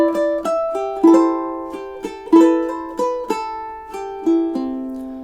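A ukulele plucks measures 11 and 12 of a song, a close, bright run of picked notes and strummed chords with a steady rhythm and no talking.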